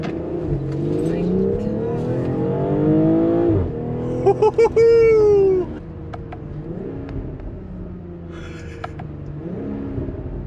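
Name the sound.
BMW X3 M40i engine accelerating with exhaust burbles on downshift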